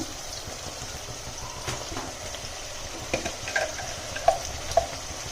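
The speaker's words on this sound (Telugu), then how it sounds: "మధ్య మధ్యలో ఇట్లా కలుపుతూ ఉండాలి, లేకపోతే మొత్తం మాడిపోతుంది" Chicken fries in a pan with a soft, continuous sizzle while a spatula stirs it, adding scattered scrapes and light taps toward the end.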